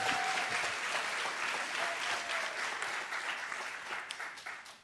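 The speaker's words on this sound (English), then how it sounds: "give that brother a round of applause" An audience at a talk breaks into applause, a dense wash of clapping that starts full and gradually thins and fades over about five seconds.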